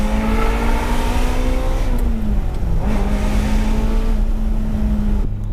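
A Ferrari 355's naturally aspirated 3.5-litre five-valve V8 howls loudly and steadily from close by, the engine note holding high, dipping briefly once, then climbing back to a sustained scream.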